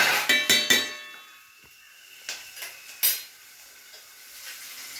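A spoon stirs curry in a metal pan after salt is added. A quick run of sharp clinks and scrapes comes first, then it goes quiet and a few softer clinks and a faint sizzle follow.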